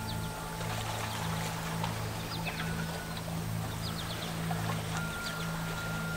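A river flows steadily and carries a small boat along, with a continuous wash of water, a low steady hum beneath it and scattered bird chirps above.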